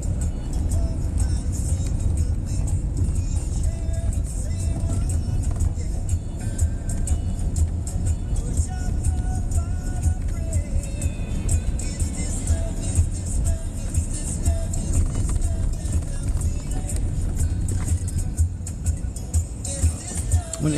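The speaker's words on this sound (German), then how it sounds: "Gas geben, raufschalten." A car on a driving lesson in Cologne accelerates and shifts up, a continuous engine hum rising and settling over road noise, with voices talking inside the cabin.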